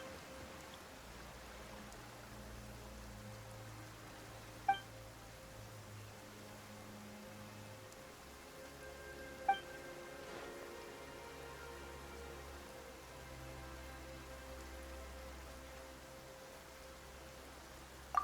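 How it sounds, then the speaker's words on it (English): Sudden rain in the video game Genshin Impact falls as a faint, even hiss of drops beneath low, sustained music, with a few sharp isolated ticks spaced several seconds apart. "Why is it raining all of a sudden?"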